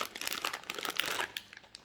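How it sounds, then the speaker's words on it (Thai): A zip-lock plastic bag holding a charging cable is opened up close, giving quiet, steady crinkling and rustling of thin plastic with no talk. "แกะถุงนะครับ นี้ ถุงเป็นแบบซิปล็อกด้วยนะครับ"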